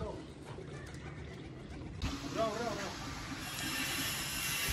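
A pigeon gives a soft, brief cooing call outdoors against a steady background hiss, with a voice heard nearby.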